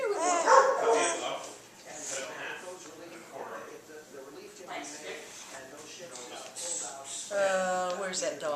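Dog whimpering with short yips and barks, mixed in with people talking nearby at a meal, the cries rising and falling across the stretch.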